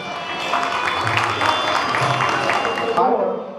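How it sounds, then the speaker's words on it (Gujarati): An audience at a family community gathering applauds children, a broad wash of clapping and crowd noise rising and holding steady before cutting off near the end, with voices mixed in. "જોરદાર તાળીઓથી વધાવો ભૂલકાઓને."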